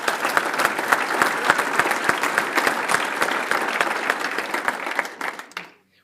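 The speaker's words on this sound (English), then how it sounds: "let's give Nico a round of applause" A round of applause from administrators, faculty, staff and students at a basketball coach's introductory press conference, a dense steady crowd clapping for about five seconds before quickly fading out.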